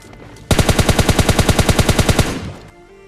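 A rapid automatic burst of about twenty evenly spaced gunshots from a weapon in PUBG Mobile Lite, loud and close, lasting about two seconds before cutting off abruptly, with no talk.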